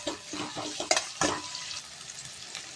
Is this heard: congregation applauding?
no